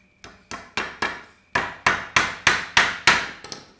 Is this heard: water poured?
no